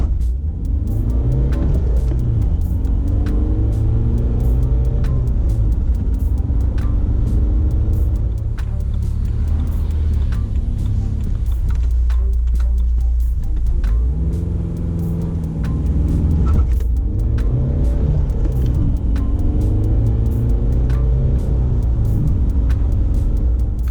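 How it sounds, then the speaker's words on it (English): A manual BMW E90 launches using launch control. The engine revs and pulls through repeated rising and falling sweeps as the car accelerates through the gears, heard loud and close from inside the car for about twenty-four seconds without talking. "let's go on a test drive and test the launch control"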